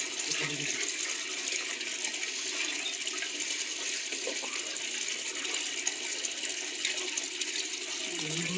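Solvent being poured into water while mixing a silicone spray adjuvant for a pump sprayer, a steady continuous liquid pour with a broad hiss that runs unbroken and fairly close throughout, with no talking.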